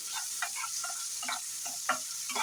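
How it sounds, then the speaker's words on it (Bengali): Halved small hog plums fry with mustard seeds and chilli for a poppy-seed chutney. A quiet sizzle runs under a scatter of light ticks and pops from the stirring, all close by. "আমড়াগুলো বেশি ভাজতে হবে না, জাস্ট সর্ষে আর লঙ্কার সঙ্গে মিশিয়ে দিতে হবে।"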